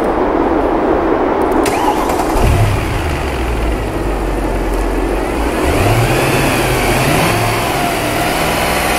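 A car engine cranks and catches, then revs and is held at about 2500 RPM during a battery test, producing a loud, steady mechanical roar with rising and falling pitch sweeps.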